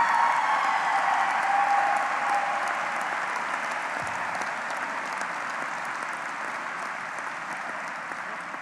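Audience applause fills a commencement ceremony at Berklee, a dense, sustained wash of clapping that slowly fades over several seconds with no voices over it.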